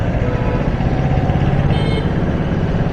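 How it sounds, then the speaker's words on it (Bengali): Vehicles creep through a traffic jam on a riverside road at Chandipur, heard from a motorbike. A loud, steady wash of engine rumble and road noise runs unbroken with no voices. "আস্তে আস্তে গাড়ি পাস হচ্ছে।"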